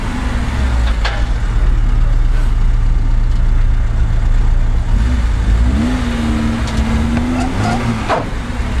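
A standard Lada Niva engine runs steadily at close range during an all-wheel-drive test on a short-wheelbase exercise, its low drone rising in a brief rev near the end.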